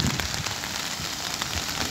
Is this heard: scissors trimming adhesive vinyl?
no